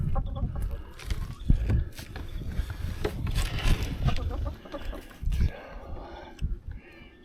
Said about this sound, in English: Let's check on the chickies.